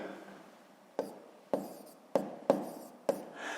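Chalk or pen strokes on a board during a sixth-grade maths lesson, five sharp scratchy taps at uneven intervals, each trailing off briefly, close and fairly quiet with no talking.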